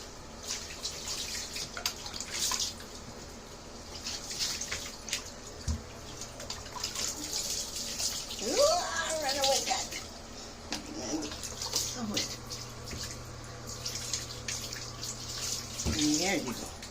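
Running water splashes steadily while a kitten is rinsed during a bath, a continuous close trickle with occasional drips and a kitten's short meows, under people talking.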